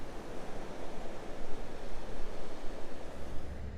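Waves wash against the water's edge of a massive limestone rock shelf on a dreary day, a steady broad rushing surge with gusty wind noise throughout.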